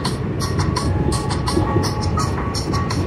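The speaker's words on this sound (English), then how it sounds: "recording on the train." Steady rumble and clatter inside a moving train, with continuous low-end noise and faint rhythmic clicks from the wheels, loud and unbroken with no voices.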